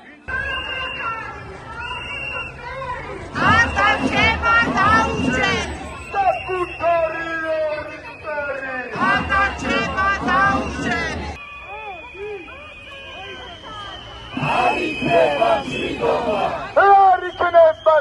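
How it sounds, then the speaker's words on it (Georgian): A pro-European protest march crowd in Georgia, moving from Isani metro toward the Interior Ministry, chants slogans in loud rhythmic bursts that alternate with quieter stretches of talk and shouting, whistles and voices carrying through the street. "მსვლელობის განმავლობაში უწყვეტი პროევროპული პროტესტის უკვე ტრადიციად ქცეული შეძახილები ისმოდა"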